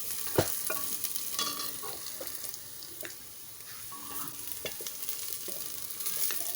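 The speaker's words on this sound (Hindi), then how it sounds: "तो फिर उसके अंदर हम अच्छी तरह पहले घुमा लेंगे, स्टेयर करेंगे, घुमाएंगे अच्छी तरह इसको" Onions frying in a pot are stirred around, giving a continuous close sizzle with intermittent scrapes and clinks of the spoon against the metal, with no one talking.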